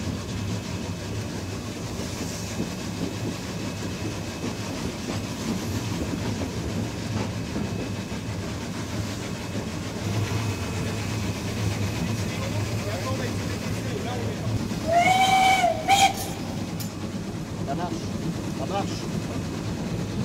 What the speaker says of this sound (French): Le mécanicien remonte progressivement la marche pour permettre au train de gagner en vitesse.